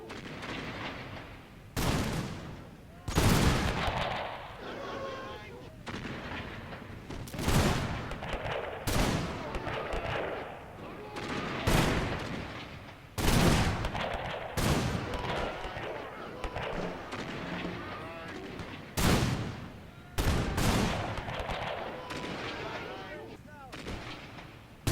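Rifle volleys in the Napoleon Total War Zulu mod, a battle at Rorke's Drift: sharp, loud cracks and booming rolling salvos erupting every few seconds over a continuous din of distant battle noise, with shouted voices mixed in.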